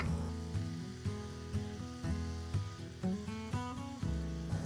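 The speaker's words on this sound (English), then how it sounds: "now I'm going to saute some garlic" Garlic sautéing in a pan in a home kitchen gives a dense, crackling sizzle with regular clicks and taps of utensils, close and steady throughout.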